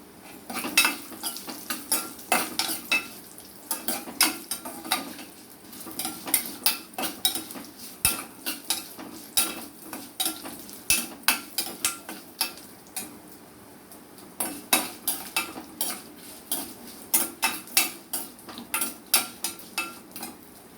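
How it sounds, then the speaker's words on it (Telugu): Coconut pieces stir-fried in a pan, with a utensil scraping and clanking in steady rhythmic strokes against the metal over a soft sizzle, close and fairly loud, continuing for a long stretch with no talking. "కొబ్బరికాయ ముక్కలు ఇవి కూడా వేసుకుంటాం. వేపేసుకుంటే బాగుంటాయి"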